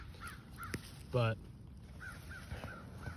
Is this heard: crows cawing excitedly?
yes